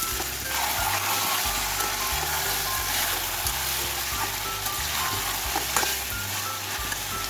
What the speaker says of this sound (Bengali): এবার এটাকে একটু নেড়ে দেবো।